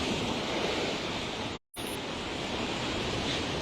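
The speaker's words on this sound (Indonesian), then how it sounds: "Ombaknya begitu pun di area di sana terus." Sea waves roll and break continuously against a damaged concrete seawall along an eroding village coast road, a dense loud roar of surf that drops out briefly for a moment before resuming.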